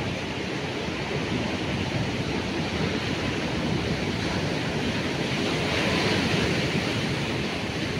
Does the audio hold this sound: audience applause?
no